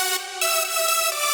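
First layer of a progressive house synth lead stack, a buzzy, harmonically dense sustained tone holding steady pitches with small shifts, played alone at moderate level without voices.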